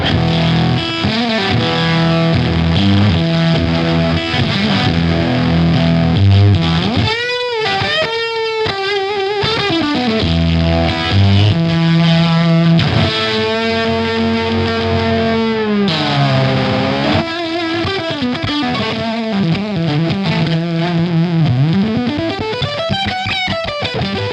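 Electric guitar through a fuzz pedal, thick saturated distortion with bending notes, sustained chords and wailing lead lines, loud and close throughout.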